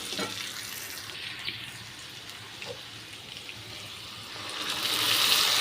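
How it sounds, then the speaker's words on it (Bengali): Potatoes frying in a pan for Bengali dhokar dal: a sizzling, crackling hiss with stirring clinks, growing louder and brighter toward the end. "তো তোমরা দেখতেই পাচ্ছ আমার আলুটা লাল করে ভাজা হয়ে গেছে।"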